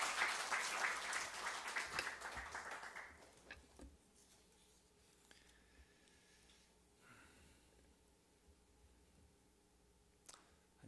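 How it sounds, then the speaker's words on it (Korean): A church congregation claps to welcome the pastor in a faint, dense patter that fades away after a few seconds. A quiet room follows, with a few soft clicks and rustles. "우리 목사님 나오실 때 우리 따뜻한 박수로 맞이해 주시면"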